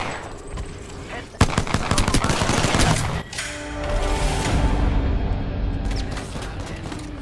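Rapid automatic gunfire in an Apex Legends arena match, with dense bursts of shots and a steady roar of battle running throughout, close and loud.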